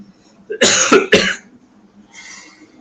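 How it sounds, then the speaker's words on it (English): Two quick, forceful coughs close up, followed by a softer breathy sound and then quiet. "Suddenly I got a cough."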